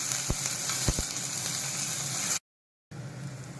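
Hot oil sizzles steadily in a pan while preparing a gongura curry, a continuous close hiss with a few faint knocks, cut by a brief silent gap before the sizzle resumes.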